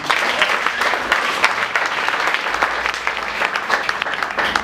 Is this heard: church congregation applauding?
yes